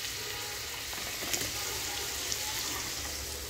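Pumpkin and dried loitta fish curry sautés in a pan with a close, busy sizzle and faint clinks of stirring. The fry stays even throughout.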